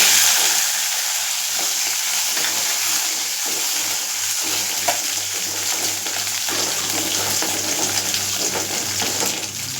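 Whole shallots frying in oil with cardamom and broken dried red chillies: a loud, dense, unbroken sizzle up close, with soft stirring scrapes and no voices.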